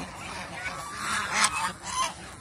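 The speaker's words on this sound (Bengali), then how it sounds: "রাজহাঁস এবং চীনা হাঁস মিটিং করেছে এবং উমে বাচ্চা নিয়ে বসেছে" Domestic geese honking nearby, several rising nasal calls in short bursts that swell and fade, kept together with Chinese geese, with no talking.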